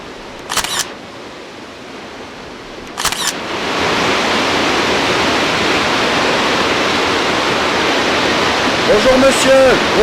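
A waterfall in the Velay roars as a steady, broad wash of noise building up after a few seconds, loud and close, with two camera shutter clicks early and a brief tonal sound near the end.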